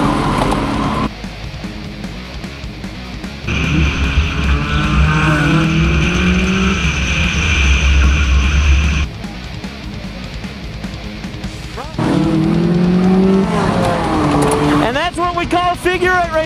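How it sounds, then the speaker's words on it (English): Race cars in a figure-eight race roar past in waves, with engines rising and falling in pitch as the pack surges, eases, and surges again, loud and close, with a brief tire squeal. "Figure eight racing, folks."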